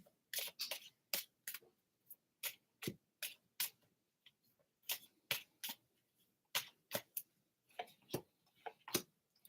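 Tarot cards being shuffled over and over, a quiet close series of crisp riffling ticks and soft slaps in an uneven rhythm, with no voices.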